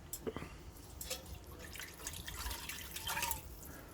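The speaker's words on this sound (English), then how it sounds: "put a bit of water in this from the kettle" Water poured from a kettle in a cabin kitchen trickles and drips faintly, a thin splashing stream mixed with small droplets, under quiet talk nearby.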